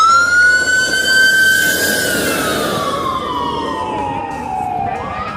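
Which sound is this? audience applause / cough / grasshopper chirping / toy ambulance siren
toy ambulance siren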